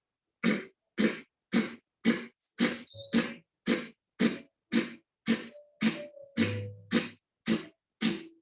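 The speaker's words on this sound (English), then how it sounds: "You're cleansing and clearing your throat." Repeated throat clearing, about fourteen short harsh bursts in a steady rhythm, close and isolated with brief silences between.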